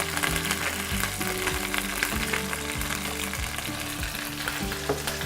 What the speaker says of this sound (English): what I'm going to do is just brown that a little bit in olive oil